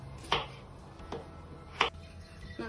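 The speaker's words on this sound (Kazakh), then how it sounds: "Картопты турап аламыз." A knife chops through potato onto a board in sparse, separate strokes, with a quiet room in the background.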